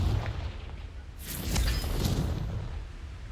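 A Confringo blasting spell explodes in Hogwarts Legacy, a single booming burst with a bright crackling spray that rises suddenly and rolls off over a couple of seconds above a low rumbling game background.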